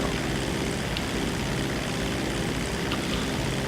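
Steady, loud propeller-airplane engine drone in GTA 5 Online, a constant unbroken roar filling the whole stretch with no talk.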